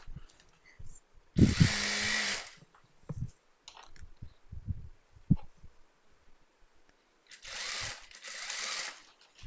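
A sewing machine stitches a fall onto a saree in two loud bursts of rapid whirring, first near the start and again toward the end, with quieter handling clicks and thumps between.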